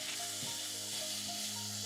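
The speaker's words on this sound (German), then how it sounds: "Shiitake-Pilze in der heißen Pfanne mit Sesamöl anbraten." Shiitake mushrooms fry in sesame oil in a hot pan, giving a steady, close sizzle with a brief stirring scrape partway through and no voices.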